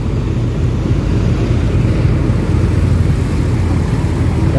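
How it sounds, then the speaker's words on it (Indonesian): A pump engine runs steadily beside a flooded road on the Demak–Kudus Pantura route, its continuous low rumble loud and close throughout with no pauses. "Kita lihat mesin pompanya ini."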